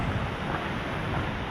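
Ocean waves crash on a beach in a steady, dense wash of surf with wind buffeting the microphone, loud and continuous throughout.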